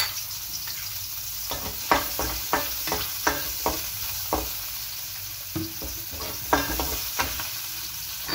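Onion and garlic sautéing in a pan, a continuous sizzle broken by repeated rhythmic scrapes and knocks of stirring, close and moderately loud.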